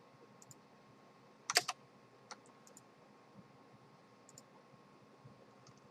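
Control and spacebar keys pressed together as a hotkey on a computer keyboard, a quick cluster of clicks with a few softer taps scattered around it in a quiet room.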